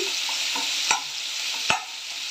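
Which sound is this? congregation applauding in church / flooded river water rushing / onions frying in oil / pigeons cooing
onions frying in oil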